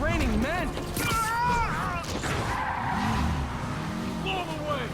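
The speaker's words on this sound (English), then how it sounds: "Stop this car chase real quick." Car chase in the Marvel's Spider-Man video game, with tires skidding and squealing amid engine noise, sirens and crashes, loud and continuous under shouted character dialogue.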